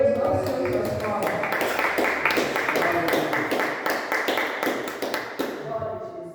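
Steady rhythmic hand clapping from a worship congregation keeps a regular beat throughout, mixed under music and singing voices.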